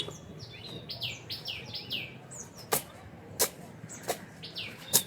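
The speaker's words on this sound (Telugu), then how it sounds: "ఈ ప్లేస్లో ఉంటాయి ఫ్రెండ్స్ పిచ్చుకలు ఎక్కువగా." Sparrows chirping in a village garden, a busy flock trading short bright tweets and rapid chatter, punctuated by several sharper, louder calls close by over a low outdoor background.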